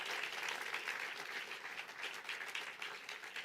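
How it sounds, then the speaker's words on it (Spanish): A church congregation claps loudly during a Spanish-language sermon on revival and spiritual warfare, producing a thick, sustained wash of many hands that holds even and strong from start to finish. "Y si lo capta, aplauda fuerte al Señor."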